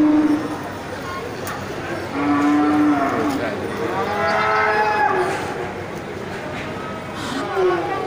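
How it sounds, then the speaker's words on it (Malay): Large Simmental cattle mooing at a livestock sale, long low moos rising and falling across the stretch, with voices talking in the background. "Sapi Simmental besar ya."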